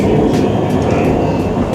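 A nearly full passenger train arrives on a rail line in Malaysia bound toward Penang, producing a loud, steady, close rumble of wheels and carriage noise that fills the scene without a break.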